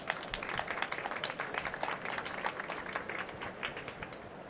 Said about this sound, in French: Je vous demande d'accueillir avec un tonnerre d'applaudissements Vincent.